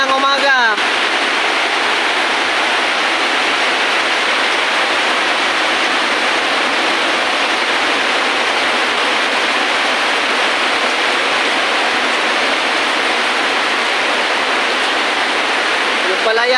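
Heavy rainfall in Agusan del Sur, a dense, steady roar of downpour that stays loud and unbroken from start to finish, with no voices over it.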